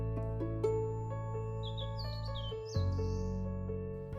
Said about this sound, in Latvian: Atlidoja arī dažādi putni,